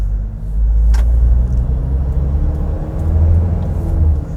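Toyota Innova Crysta 2025 pulling away from a stop, its engine a steady low rumble with a slight rise as revs climb and turbo boost comes in, heard from inside the cabin with constant road drone throughout.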